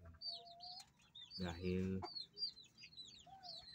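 Backyard chickens raised near planted patola vines cluck and chirp at close range, scattered short calls over a quiet background, with one brief spoken word in the middle.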